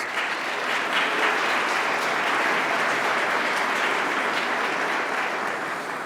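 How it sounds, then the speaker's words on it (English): Steady, dense applause from an audience at a City of Chicago initiative launch event, continuous and even for several seconds with no voices over it. "Let's give them all another round of applause."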